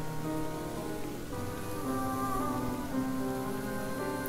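Steady rain falls in Ender Lilies, a dense, even hiss heard under soft sustained musical tones, continuous and moderately quiet throughout.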